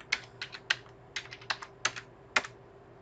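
Keys tapped on a computer keyboard in a quiet room, about eight distinct clicks in an uneven rhythm, some in quick pairs, close and fairly soft over a low steady hum.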